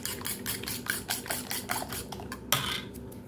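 A utensil rapidly whisking eggs in a bowl, quick repeated clinking taps in an even rhythm, close and clear, with one sharper clack near the end.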